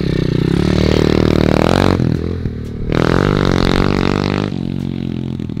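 A newly bought dirt bike revs loudly close by, its engine note climbing and falling in two long bursts with a short dip between, rough and buzzy throughout.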